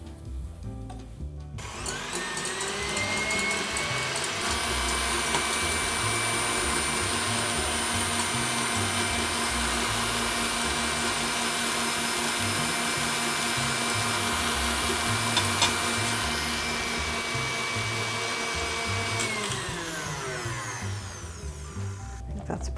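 An electric mixer whips egg whites for meringue kisses as sugar is added gradually, a steady loud whirring drone that holds for about twenty seconds and then stops, with faint knocks of the bowl underneath.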